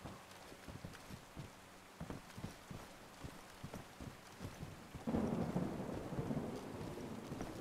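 A thunderstorm in the video game DayZ rumbles with low rolling thunder over steady rain, with a run of dull rhythmic thuds and then a louder swell of downpour; no one talks.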